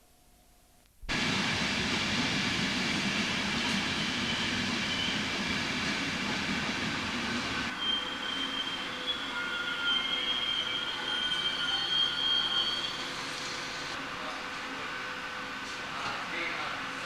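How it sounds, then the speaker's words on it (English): A northbound non-stop train rushes through a station platform on the Newark to Doncaster line, a loud sustained roar of wheels and rails with a high squealing tone partway through, beginning abruptly after a quiet moment. "A northbound non-stopper rushes through as the service from Leeds to King's Cross pulls into platform 1."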